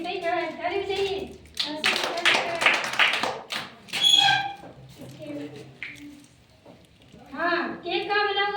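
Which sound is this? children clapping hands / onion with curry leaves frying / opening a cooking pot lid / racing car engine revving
children clapping hands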